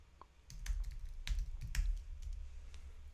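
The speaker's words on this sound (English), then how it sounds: "we type in something here." Someone types a search term on a computer keyboard, a quiet patter of a few light key clicks in quick succession, with no talk.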